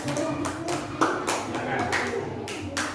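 Classroom applause for a student group: scattered hand claps from several people, loose and uneven, with a few sharper claps standing out, heard at moderate distance in a busy room.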